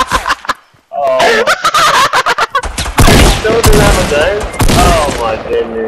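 Gunfire in the video game Fortnite sounds as fast, loud bursts of shots mixed with excited shouting and other game noise, after a brief pause near the start.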